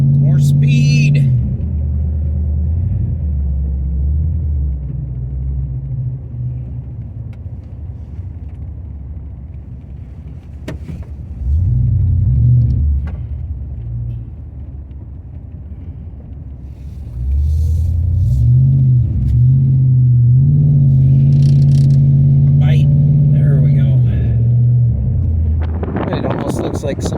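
An OBS two-wheel-drive pickup truck drives through snow and accelerates, a loud low engine rumble that swells into strong revving surges and eases off between them, with someone talking over parts of it.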